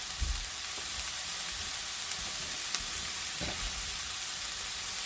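Onions fry gently in a pan, turning translucent, with a faint, continuous soft sizzle and a few quiet scraping stirs, heard alone without talking.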